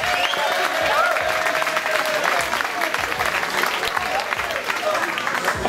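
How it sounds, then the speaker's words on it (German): Sustained applause from a village fair crowd at a Kerwe celebration, dense steady clapping throughout with some crowd noise and a few voices mixed in. "gebt dem Ralf und dem Klaus schon davor nochmal einen besonderen Applaus"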